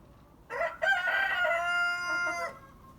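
A rooster crows once, a loud, drawn-out cock-a-doodle-doo lasting about two seconds, close by against quiet background.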